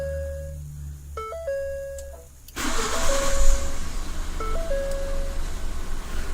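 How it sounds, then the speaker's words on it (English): Electronic chimes sound, then a 2011-2014 Ford F-150 pickup engine cranks by remote start from the factory fob and catches, settling into a steady idle rumble with more chimes repeating over it. "we can start the engine using our OEM fob"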